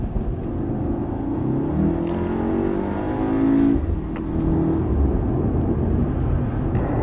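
A race car accelerates on the track and climbs through the revs with a steady, throaty engine roar. A brief lift on the throttle interrupts the pull before it resumes.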